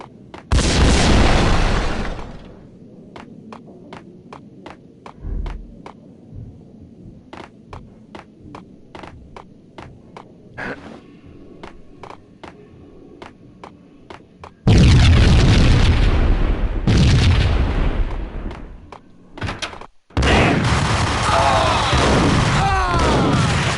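Booming shotgun blasts from the video game Max Payne: a loud burst at the start, then a long run of sharp, evenly spaced shots, followed by heavier stretches of gunfire and explosions near the end.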